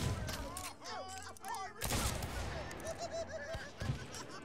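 Gunshots aimed at barrels in a pirate video game ring out in scattered bursts under game music and chatter, with a louder cluster partway through and speech running alongside.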